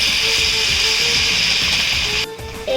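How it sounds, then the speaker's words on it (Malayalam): Date fritters dipped in batter frying in well-heated boiling oil, a steady loud hiss and crackle close by, with no talking. "നല്ലോണം തിളയ്ക്കുന്നുണ്ട്"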